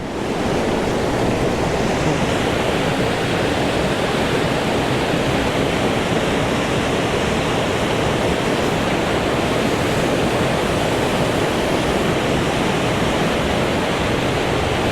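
A river rushes steadily near a bridge over the River Chaorainn, a dense, continuous broadband wash of water, loud and unbroken throughout with no voices.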